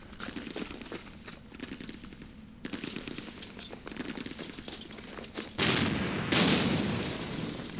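Gunfire and artillery in a war strategy video game, with rattling machine-gun bursts through the first half, then two loud, heavy booms that swell and linger near the end.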